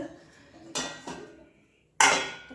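A pot of milk is set down on a gas stove, giving a couple of sharp metallic clanks and a final louder clatter separated by brief quiet.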